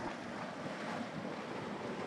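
Dragon's Mouth Spring, a hot spring at Yellowstone, churns and surges in a steady roaring wash of water, with broadband rushing noise that carries on through the clip and a windy edge, with no speech.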